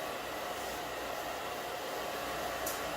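A blow dryer runs continuously at a steady loud roar, drying a glossy Mod Podge craft coating, with no talking.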